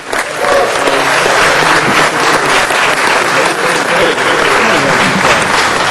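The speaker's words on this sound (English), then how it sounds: "let's just give that round of applause for that." Audience at a city council meeting applauds a league-undefeated team, a loud, dense wash of clapping that holds steady and close for the whole stretch with no voices over it.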